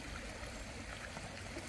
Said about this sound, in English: it's also about crossing running water